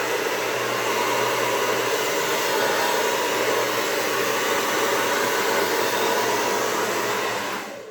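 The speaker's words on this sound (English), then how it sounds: "then I'm putting the hair dryer on my brush and going down." A hair dryer with a straightening attachment blows steadily on hair wrapped over a brush, a loud, even, close whoosh that runs unbroken for eight seconds before cutting off.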